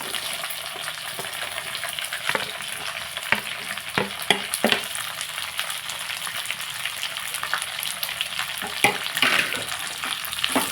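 Onions fry in a pan while being stirred, a steady close sizzle punctuated by scraping spoon strokes and occasional clacks against the pan.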